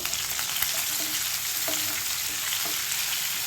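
Curry leaves fry in hot oil for a bitter gourd curry, giving a dense, close, continuous sizzle with a few soft stirring clicks underneath.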